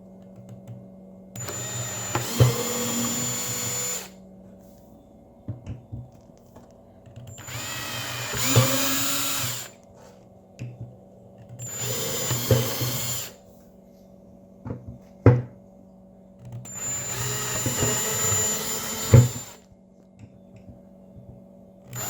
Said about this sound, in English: So I'm gonna drill some holes